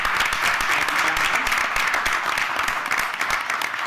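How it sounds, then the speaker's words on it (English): Audience applause at a Mount Olive Board of Education meeting honoring three cadets, a dense, steady wash of clapping from a large room that holds evenly for the full four seconds. "give them a round of applause."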